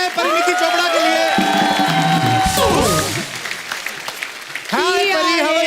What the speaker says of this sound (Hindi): एक बार जोरदार तालियां हो जाए परिणीति चोपड़ा के लिए